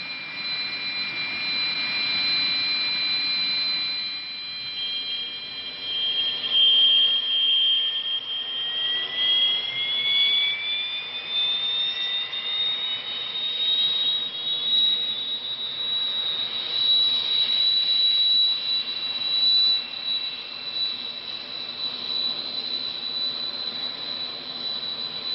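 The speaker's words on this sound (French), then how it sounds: "L'étendard 4 est un avion d'assaut et un intercepteur à basse et moyenne altitude." A Dassault Étendard IV assault and interceptor jet engine of about 5 tonnes thrust roars continuously, its high whine rising and sliding in pitch over a broad rushing rumble, sustained and fairly close.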